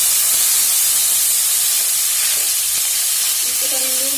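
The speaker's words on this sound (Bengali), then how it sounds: "এর মধ্যেই আমি পটল আর কাঁকরোল গুলোকে ভেজে নেব।" Pointed gourd and teasel gourd frying in oil over a high flame, giving a steady, loud, broadband sizzle and hiss throughout, with a faint rising tonal sound near the end and no talking.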